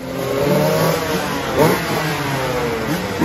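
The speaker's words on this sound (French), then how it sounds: "du coup on fait chauffer la moto ici" A motocross motorcycle engine warms up at an indoor two-wheeler show. It is loud and close, with a continuous drone and repeated revs that peak briefly about halfway through.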